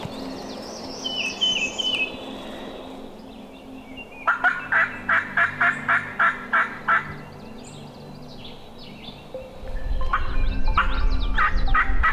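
A wild turkey during a spring bow hunt in Kansas gives a rapid, loud gobble near the start. A run of about nine evenly spaced calls follows mid-clip, then another gobble amid rustling, with no talk.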